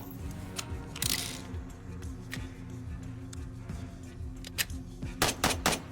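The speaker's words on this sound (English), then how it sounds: "somebody's definitely taking shots" Gunfire in the tactical shooter game Door Kickers 2, with scattered single shots and short bursts spread across the moment and a denser cluster of sharp reports near the end, set against low game ambience.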